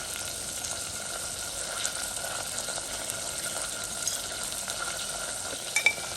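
Cluster beans and potatoes are stirred in a pan over the stove, giving a continuous close sizzle and soft scraping with faint irregular clicks throughout and no voices.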